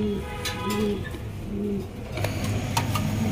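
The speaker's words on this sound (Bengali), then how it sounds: "একজোড়া রেড কালারের ডায়মন্ড পিয়ার দেখতে পাচ্ছেন, ডেনিশ কবুতর" A pair of red diamond-pied Danish pigeons coo in soft, repeated low phrases at close range, with scattered clicks and faint background noise between the calls.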